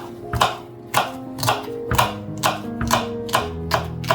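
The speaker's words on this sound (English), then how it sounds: "Chop up that parsley," Knife chopping parsley on a cutting board for soup, about eight crisp, evenly spaced chops in a steady rhythm, close and clear with no talking.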